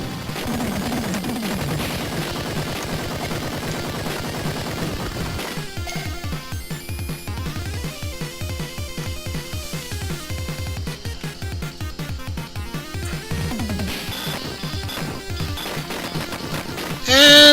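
Rapid bursts of crackling explosions from enemies blown apart in the Blazing Lazers shooter game, a dense continuous barrage of blasts and laser fire over synthesized game music, with a loud final burst at the end.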